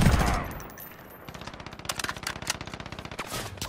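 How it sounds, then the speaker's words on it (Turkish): Rapid automatic gunfire in Call of Duty Modern Warfare multiplayer, aimed at a teammate: dense bursts of fast, evenly spaced shots crackling loudly and continuously, growing denser toward the end, with no talk over them. "Kardeşimize silah sıkıyorlar."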